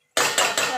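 A metal lid lands on a pot of chicken curry with a sharp clatter followed by two quick ringing rattles as it settles, close and loud after brief silence.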